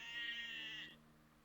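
A single sheep in the MS-DOS video game Wishbone and the Amazing Odyssey lets out one drawn-out, nasal synthesized bleat, faint and alone, which cuts off abruptly.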